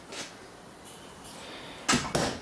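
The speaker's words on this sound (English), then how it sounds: "If I open the fridge when the light turns on" A few brief clicks and soft thuds, a refrigerator door latch releasing and its seal pulling open, close by in a quiet room.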